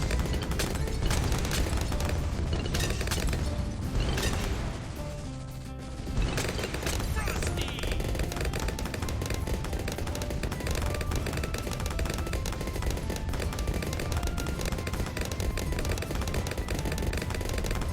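Bomb shooter towers in a Bloons tower defense game popping masses of bloons, a dense, relentless barrage of pops, blasts and crackles, steady and loud, with one brief lull midway.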